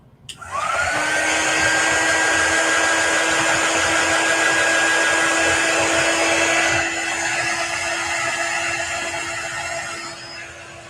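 A heat dryer blows to dry ink on an apron, starting with a click and a rising whine, then settling into a loud, steady, high-pitched whir that runs for about ten seconds before easing slightly.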